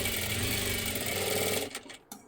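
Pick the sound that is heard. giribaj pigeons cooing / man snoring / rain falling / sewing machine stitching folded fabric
sewing machine stitching folded fabric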